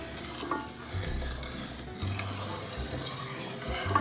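Milk, sugar, cold cream and a pinch of salt are stirred together by hand for homemade ice cream, giving soft swishing and faint scraping in a bowl, quiet and close, with a low hum underneath.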